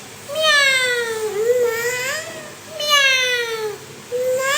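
A young child imitates a cat's meow, giving two long drawn-out rising and falling meows close to the microphone, a short pause between them.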